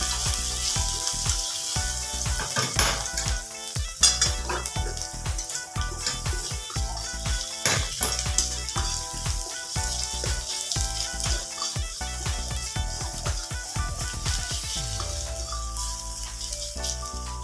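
Garlic frying in oil in a pan, with a continuous sizzle under busy clattering of a utensil against the pan and some steady tonal background sound.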